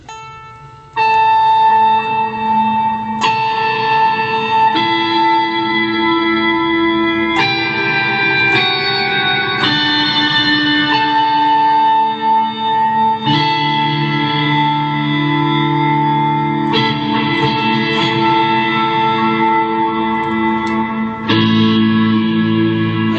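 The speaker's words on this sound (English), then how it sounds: "I'm going to take a reverb from the H9 here. It's quite a big reverb." Sustained chords from a Boss SY-200 guitar synthesizer pedal washed in heavy reverb from an H9 pedal, each new chord swelling into a long shimmering tail, loud and continuous without pauses.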